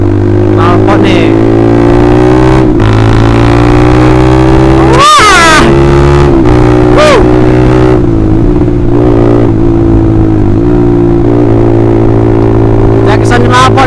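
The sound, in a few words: Honda CBR150R motorcycle revving with Austin Racing aftermarket exhaust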